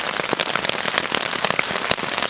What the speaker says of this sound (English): It's been raining most of the night.